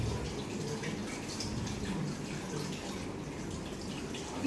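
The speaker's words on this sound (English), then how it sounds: "And then lift it gently and let the water drain." Water drains and trickles from wet paper pulp lifted in a papermaking mould during a classroom demonstration, a steady soft splashing hiss lasting throughout without talk.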